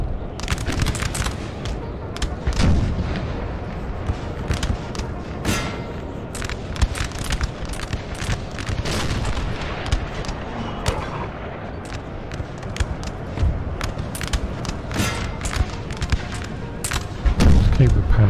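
Cannons and musket fire from a Napoleon: Total War battle boom and crackle in dense, continuous volleys. Sharp reports keep piling over a rumbling background the whole time, with faint voices underneath.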